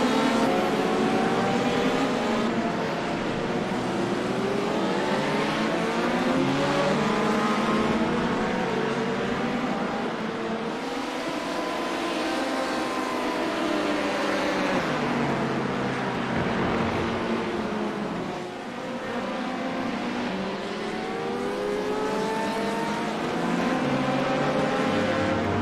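Race car engines in the iRacing video game at Daytona during a 24-hour endurance event alongside LMP prototypes: a continuous loud engine drone that rises and falls in pitch with gear changes and throttle, no talk.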